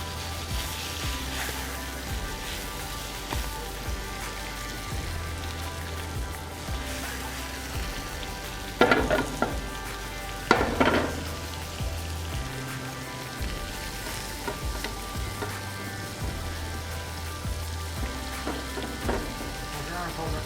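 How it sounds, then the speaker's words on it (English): Spinach sizzling and frying in a pan for an omelette, a steady crackling hiss throughout with a couple of louder clatters. "so we're gonna throw some spinach in here."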